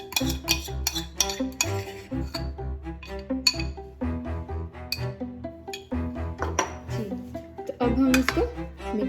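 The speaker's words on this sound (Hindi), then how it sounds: "अब हम इसको मिक्स कर देंगे।" A creamy vegetable pasta salad being mixed with beaten cream and mayonnaise in a bowl: a spoon clinks and knocks against the dish in bursts, close and fairly loud, with no speech.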